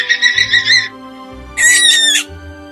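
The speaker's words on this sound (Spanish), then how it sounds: "Un conejo chilla." A small rabbit makes two high, squealing cries, each about two-thirds of a second long and separated by a short pause, loud and close with nothing else heard.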